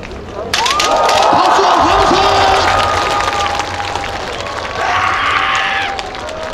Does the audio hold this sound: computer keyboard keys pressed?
no